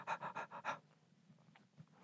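A storyteller imitates an old, tired dog panting, giving four quick rhythmic breathy pants up close, followed by quieter faint breathing.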